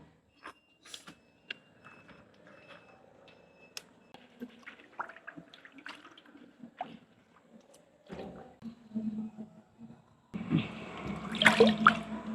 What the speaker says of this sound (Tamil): இப்போ நாங்கள் வெங்காய பூவை கழுவி எடுப்போம்